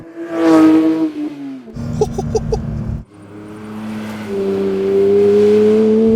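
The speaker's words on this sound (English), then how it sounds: "that lovely 4-litre flat six with 375 kilowatts and 470 Newton meters of torque" A Porsche 911 GT3 with a 4-litre flat-six revs loudly nearby, its pitch dropping and climbing across several throttle blips, then settling into a sustained high-revving drone.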